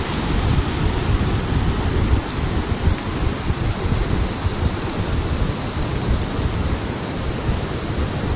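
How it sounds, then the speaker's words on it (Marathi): Heavy monsoon rain pours down outdoors in misty hills, a dense, loud, continuous roar of drops with no pauses and no voices. "आता एवढा सगळा पाऊस पडतोय"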